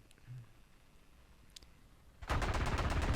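Tank machine gun fire in War Thunder Mobile, from an IT-1 tank: after a quiet stretch, a loud, rapid, sustained burst of automatic fire starts and keeps going to the end, alone with no talking.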